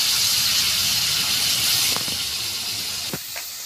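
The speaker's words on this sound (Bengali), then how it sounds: "দেখো আমি তেলে দিয়ে দিচ্ছি কিন্তু কপি ভাজার জন্য।" Shredded cabbage dropped into hot oil for home-style egg chowmein gives a loud, steady close sizzle, a broad hiss that eases slightly over time, with a couple of faint clinks near the end and no talk.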